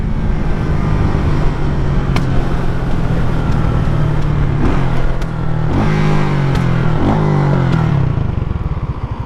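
Motorcycle ridden through Kingston city traffic with a slipping clutch, its engine revving up and down in loud, close surges with some clatter and buzzing rises, no talking.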